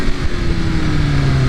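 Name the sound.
BMW S1000RR motorcycle rear tire spinning, engine revving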